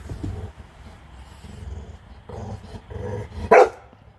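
A dog barks and growls in short bursts, with one loud sharp bark near the end standing out over quieter low grumbling.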